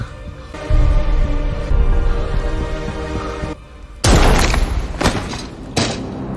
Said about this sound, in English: the first bomb was finally dropped